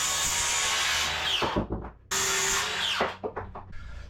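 A power tool whines as it cuts wooden trim on a boat, stopping and restarting twice, with short rough bursts as the blade bites through and releases.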